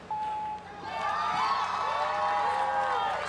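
Crowd at an American Ninja Warrior qualifier in Dallas cheering for competitor Kevin, a sustained chorus of shouts and whoops with high-pitched cries rising and swelling after a brief opening tone.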